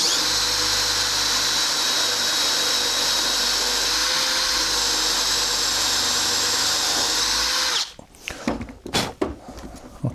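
A power drill bores into a deer antler for a thumbstick, whining loud and steady for about eight seconds before cutting off, followed by a few close knocks and handling clatters.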